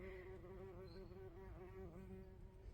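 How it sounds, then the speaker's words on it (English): A bee buzzes continuously around garden flowers, a close, droning hum that wavers slightly in pitch over faint outdoor background noise. "That is a bee"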